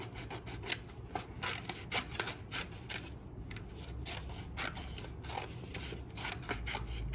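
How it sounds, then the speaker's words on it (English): Paper being cut with scissors for a scrapbook layout, a steady stream of close rasping snips and rubbing over a low background hum, no voices. "I'm going to cut the middle out of that."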